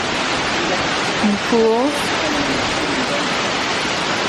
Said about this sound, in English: And there's littler waterfalls as well.